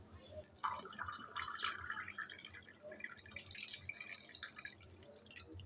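Cold water pours and trickles into a mango drink, a faint splashing, bubbling stream running steadily for several seconds.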